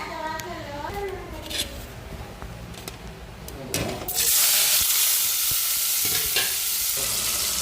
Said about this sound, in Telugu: ఆయిల్ అయితే బాగా వేడైంది కదా తాలింపు వేస్తుంది